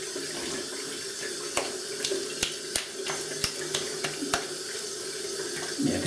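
Cold water runs from a tap into a bathroom sink in a steady rushing stream, with several sharp splashes and clicks scattered over it, close by.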